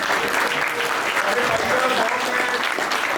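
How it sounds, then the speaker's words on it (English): Audience applause fills a press meet for the Matrix Fight Night 11 edition at the Taj in Delhi, a dense, steady clapping from a crowd, loud and continuous throughout with a murmur of voices beneath. "So big round of applause"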